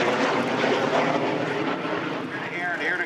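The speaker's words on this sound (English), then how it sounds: "This is a barrel roll where Paul Wood rolls around an imaginary point in the sky, 45 degrees up and to the left of the aircraft" An F-86 Sabre jet performs a barrel roll at the Thunder Over Michigan airshow, its engine giving a continuous, loud roaring rush while an announcer's voice talks over it.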